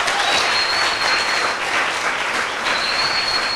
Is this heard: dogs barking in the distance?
no